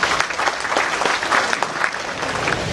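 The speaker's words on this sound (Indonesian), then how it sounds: "Tepuk tangan untuk mereka." An audience at a performing-arts event claps for dance and gamelan students, lively applause with audible individual hand claps pulsing through under three seconds, fairly close and loud.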